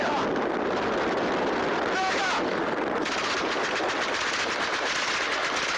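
Rapid bursts of police gunfire crackle in dense volleys outdoors, loud and sustained, with wind buffeting the microphone.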